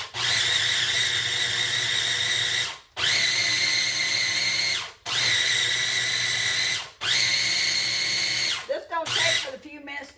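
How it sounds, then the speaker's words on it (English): Cheese cracker ingredients ground in a lidded kitchen grinder, four long loud bursts of high whirring motor, each a couple of seconds, separated by brief pauses, ending in short rattling pulses. "So what I'm going to do, put the lid on. Grind that up really good."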